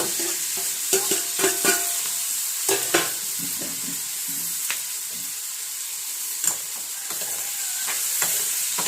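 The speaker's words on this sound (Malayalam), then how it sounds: "നല്ലപോലെ ഇളക്കി യോജിപ്പിച്ച്" Curry is stirred in a pan over steady sizzling, with a series of scraping, knocking spoon strokes in irregular bursts, close and clear, no voices.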